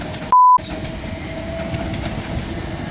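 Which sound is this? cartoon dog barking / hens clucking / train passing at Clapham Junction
train passing at Clapham Junction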